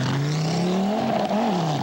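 A 1984 rally car sweeps through a corner close by, its engine loud and sustained with a steady high drone that dips and swells as it revs through the bend, no voices.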